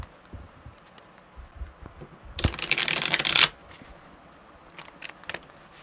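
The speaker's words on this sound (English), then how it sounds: "These are really hard to shuffle." A deck of tarot cards being shuffled, heard as one loud, close riffling burst lasting about a second, with faint handling sounds before and after.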